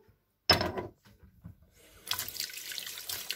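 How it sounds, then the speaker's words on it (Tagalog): Water pours from a tap into a sink for cooking, starting with a sharp gush, then fading to quieter trickles before flowing steadily again, with no talk over it. "Sige, lagyan ko kayo ng tubig."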